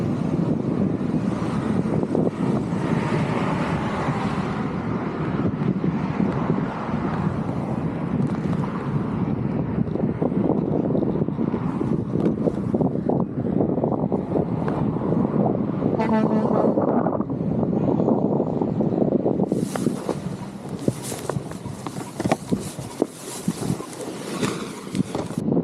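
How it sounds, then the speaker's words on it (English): Strong, gusty wind buffets a paraglider pilot's microphone during landing, a steady loud roar throughout with a sharper, hissier burst of gusting near the end. "On this landing, I have to be aware of the very strong wind."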